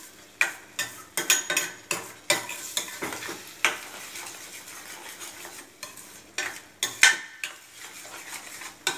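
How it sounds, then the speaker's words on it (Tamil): Scrambled egg and broccoli are stirred briskly in a frying pan. The spatula gives rapid, uneven scrapes and clinks over a soft sizzle, close up, and no one speaks. "நல்லா இப்படி சுருள சுருள சுருள சுருள கிண்டணுங்க."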